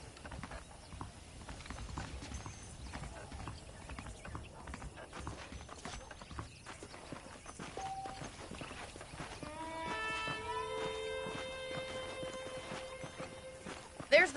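Horse hooves clip-clop at a steady walking rhythm in the Western video game Red Dead Redemption, faint and mixed with mechanical clicks and ambient noise. A tonal cue enters partway through.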